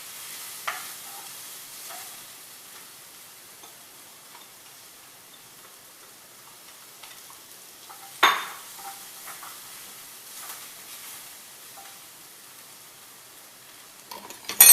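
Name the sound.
stirring sautéing vegetables in a pan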